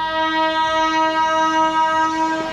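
The Karimnagar to Sirpur Kagaznagar train at a station platform sounds a loud, sustained, steady horn that holds through the whole moment.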